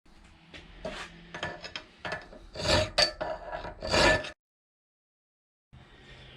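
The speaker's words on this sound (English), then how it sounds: "This half round file is really good for getting in close to the inner diameter." A half round file rasps against a Ford Mustang 4.6/5.4 SOHC V8 camshaft in repeated back-and-forth strokes, close and scratchy, then stops into silence before a softer scrape resumes.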